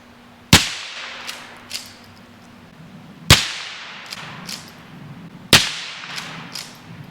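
Three sharp, loud 9mm pistol shots with steel-cased target ammo, spaced about three seconds apart outdoors at a riverside homestead, each followed by short echoes.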